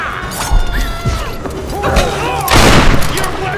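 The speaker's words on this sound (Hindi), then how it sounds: "अरे भाई कितनी गोलियां खाएगा" Bursts of gunfire and impacts from the 2013 video game Tomb Raider, fighting against an undead army, sound in quick clusters with a heavy crash near the end, mixed with other game noises.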